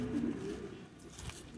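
A pigeon hiding near a wire during a hurricane gives a faint, short low coo, quiet and close, with no voices.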